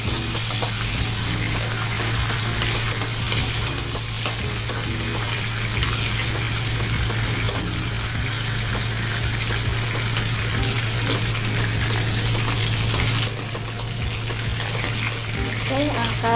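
Tomatoes and ingredients for spicy shallot sambal fry in hot oil, a dense steady sizzle with stirring scrapes that fills the whole stretch, loud and close with no talk.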